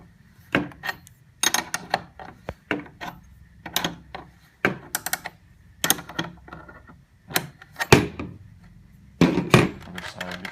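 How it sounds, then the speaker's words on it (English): A 16mm box wrench loosens the rear axle nut on a Razor E200 electric scooter. Close metallic clanks, clicks and ratcheting knocks come in irregular bursts throughout. "next we take our 16mm box wrench and loosen the back axle"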